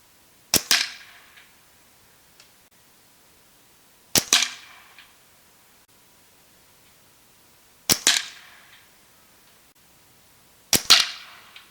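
A Marauder air rifle fires four JSB Exact Jumbo Heavy pellets at a 40-yard target, each a sharp, crisp crack spaced a few seconds apart with short decays and quiet gaps between.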